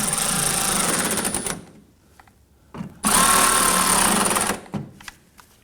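A lightweight power tool whirs in two loud bursts of about one and a half seconds each, snugging down rear mud flap bolts on a 2016-2023 Toyota Tacoma, with brief quiet and small clicks between.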